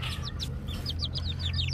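Several small chicks from a backyard flock of hens give rapid high chirps in quick bursts, close and fairly loud over a low steady background rumble.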